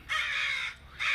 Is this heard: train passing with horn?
no